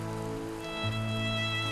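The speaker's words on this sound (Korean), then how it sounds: "한바탕 퍼붓고 사라질 소나기라면 좋으련만 비가 그치기를 바랄 뿐이다." A rain shower falls on an autumn gizzard shad fishing boat at sea, a steady, dense hiss of rain heard close up over a constant droning hum.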